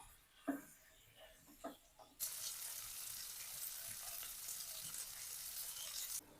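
Marinated chicken hits hot butter in a kadai with a sudden loud sizzle that fills out into steady, close frying, after a few light knocks and clinks of utensils.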